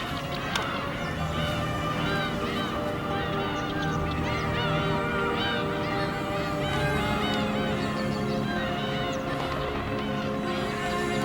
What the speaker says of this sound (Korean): 석호에 이른 아침은 새들의 울음소리에 깨어난다.